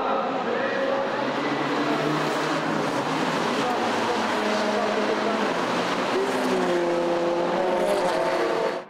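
VW Fun Cup race cars running at Spa-Francorchamps, engine drones rising and falling as the cars pass through a busy field, with commentary-like crowd ambience and voices blended in throughout.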